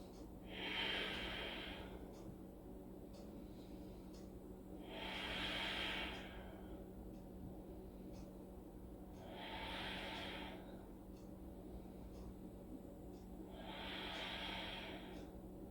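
Slow, steady breathing while holding a yoga headstand, with four long airy exhales spaced about five seconds apart, close and soft over a low hum.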